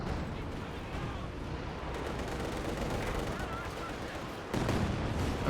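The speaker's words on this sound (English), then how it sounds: "Sturmpanzer achieving Veterans 1 and the bunker busting barrage" A Sturmpanzer's bunker-busting barrage in Company of Heroes 2 rumbles through a dense wash of battle noise with gunfire, and a heavier blast lands near the end.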